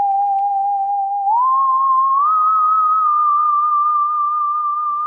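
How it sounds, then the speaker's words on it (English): A theremin lead synth patch from Nexus 5 plays a lone, smooth, sustained tone that holds steady, then glides upward in slow steps and settles on a higher note, with nothing else beneath it. "I have used Nexus 5 for this and the lead that I've used is called the Theramin"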